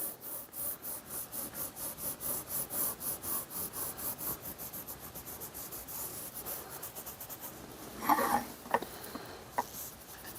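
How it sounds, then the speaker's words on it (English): A cloth or hand rubs oil into cold bluing on a restored Blackhawk-Armstrong tool, a rhythmic back-and-forth scrubbing at close range, with a few sharper scrapes and knocks near the end. "The oil helps neutralize the bluing, and rubbing it in helps blend the cold bluing"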